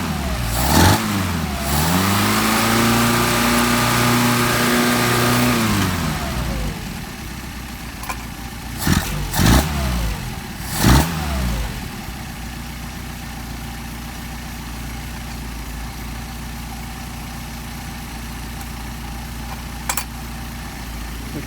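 Mercedes 190SL engine with Solex carburetors, revved hard with a rising and falling whine, settling to a steady idle, then given a few short throttle blips over the running engine.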